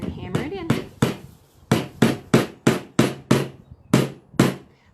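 A hammer drives a nail into a board for string art in a run of about eleven sharp, evenly spaced knocks, loud and close, with a brief voice near the start.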